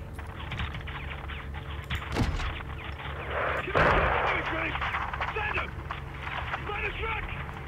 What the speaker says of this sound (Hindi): और किधर से गोलीबारी हो रहा है?